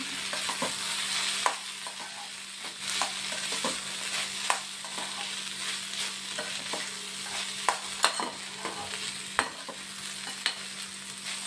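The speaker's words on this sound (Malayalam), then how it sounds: "മുളക് പൊടി കൂടി ചേർത്ത് നല്ലതുപോലെ ഒന്ന് ഇളക്കുക ഇളക്കി യോജിപ്പിക്കണം" Ivy gourd stir-fry sizzles steadily in a pan as chili powder is stirred in, the constant hiss broken by sharp, irregular clinks and scrapes of a spoon against the pan, with no talking.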